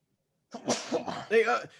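A single sharp sneeze bursts out, close and loud, followed by brief voiced sounds trailing after it.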